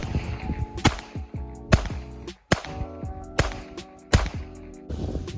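A pistol fires at a pumpkin outdoors: about five sharp, loud cracks arrive at irregular intervals of roughly a second, each with a short echoing tail, and quieter background noise between them.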